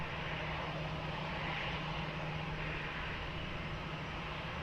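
An airliner takes off from runway 20 at Lisbon Airport, its engines a steady, broad, distant roar with a faint low hum beneath. The roar holds level throughout, with no voices.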